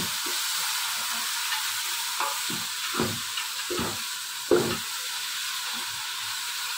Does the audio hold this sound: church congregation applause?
no